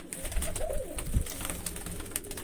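Pigeons kept in a loft with nesting pairs give soft, low cooing sounds amid steady background noise, a few coos rising near and moderately loud without any talking.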